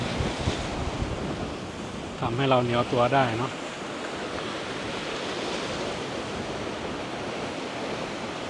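Sea surf washes steadily onto a beach at Khao Laem Ya National Park in Rayong, with wind buffeting the microphone throughout and a person speaking briefly over it near the start.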